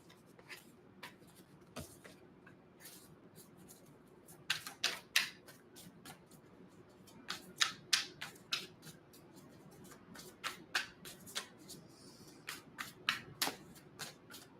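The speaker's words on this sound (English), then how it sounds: "I'm going to give it a good shuffle." Tarot cards being shuffled in quick bursts of crisp riffling and flicking, near and fairly soft, with short pauses between rounds and no talking.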